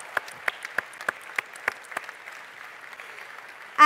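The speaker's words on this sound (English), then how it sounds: "put your hands together, and give him a huge round of applause" Audience applause for the Chief Minister of Andhra Pradesh at a Happy Cities Summit session, heard as a short burst of sparse, distinct claps that trail off into a light patter, with no talking.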